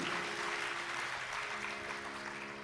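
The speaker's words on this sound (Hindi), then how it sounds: "बजाइए तालियां तुलसी की कल्पना के।" Applause from a live audience at a Hindi sung Ramayana recital, a dense, steady wash of many hands clapping loudly and continuously with no breaks.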